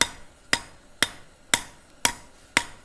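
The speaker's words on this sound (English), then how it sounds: "The more rhythmic you get with it, like hammering on the beat, the more accurate each one of those scallops will end up looking" A forging hammer strikes hot metal while scallops are being shaped. There are six sharp, ringing blows at an even beat, about two per second, close up and with no talking.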